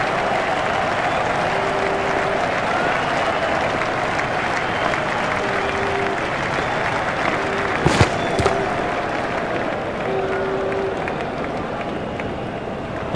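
A stadium crowd in the video game EA Sports Cricket 08, India vs England, applauding and cheering a shot, a steady wash of clapping and crowd noise with a few brief whistles, no talk.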